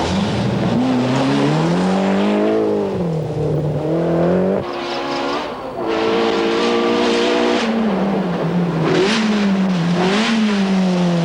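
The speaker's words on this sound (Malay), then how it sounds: "Salah sebuah kereta Suzuki yang mengambil bahagian dalam perlumbaan kali ini" Suzuki rally car competing in the 1992 Rally of Malaysia, engine revving up and down through gear changes with a brief lift and dip, loud and close, no voices.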